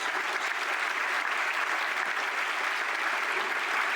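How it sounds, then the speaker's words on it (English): An audience at a university honors convocation applauds in a dense, even sheet of clapping that holds at a steady, fairly loud level the whole way through. "Please join me for a final round of applause for these outstanding college awards."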